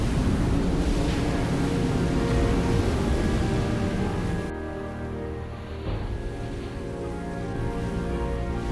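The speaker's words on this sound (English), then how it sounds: "It's raining cats and dogs, with visibility a couple of hundred yards at best." Heavy rain at sea in the submarine game Silent Hunter 4, a continuous hissing downpour with wind and a low rumble of waves that dips briefly midway.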